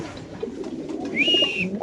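At a busy pigeon market, a large pigeon gives a low, steady cooing murmur up close, with a thin high whistle-like chirp rising briefly near the end.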